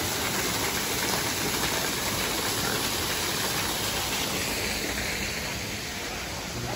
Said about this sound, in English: Waterfall. We love it when you get to walk behind the water elements.